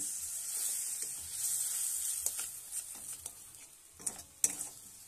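Folui fish frying in a small amount of oil for a mustard-based oil jhal curry, giving a soft, steady sizzle close by, with a few sharper spatters and clicks near the end.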